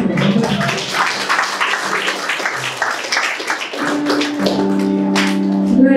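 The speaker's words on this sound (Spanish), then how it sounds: "Muchas palmas" Audience clapping hands at an 18th birthday celebration in Lima, rapid dense claps throughout, with a sustained tone and some voices rising in the second half.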